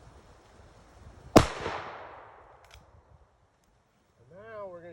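A single sharp gunshot from a Rossi 92 lever-action rifle in .45 Colt cracks outdoors and rolls off in a long echoing tail, followed a few seconds later by a voice.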